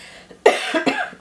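One person coughs twice in quick succession, close and fairly loud, a short sharp burst followed by a second rougher hack.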